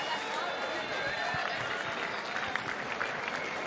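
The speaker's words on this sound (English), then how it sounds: "Give up a round of applause to everybody." A crowd applauds at a Gold Coast surf event, a steady, dense wash of clapping that holds evenly throughout with voices mixed in.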